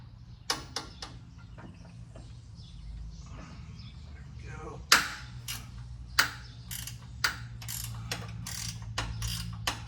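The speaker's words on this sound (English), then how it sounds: "Get my wrench on there." A ratchet wrench clicks on a 14 mm bolt while loosening the rear bushing hardware of a Polaris Sportsman 800 ATV, with scattered then faster sharp ratcheting strokes, close and fairly quiet, with low background hum.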